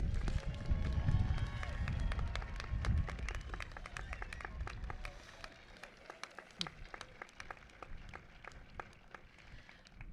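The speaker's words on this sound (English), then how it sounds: "let's give our graduates one final round of applause" Audience clapping for nursing graduates at the close of a spring university commencement ceremony, a dense steady round of applause that is loudest at first and thins slightly toward the end, with a low rumble of crowd noise beneath.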